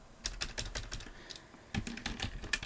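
Keys tapped on a computer keyboard while a new layout name is entered in 3D modeling software, two quick bursts of close, crisp clicks split by a short pause.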